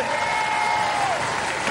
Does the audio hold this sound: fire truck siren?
no